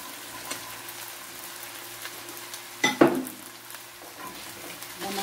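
Diced chicken with corn and peas frying in a pan, a continuous close sizzle broken by one sharp clatter of a utensil against the pan midway, then more light stirring.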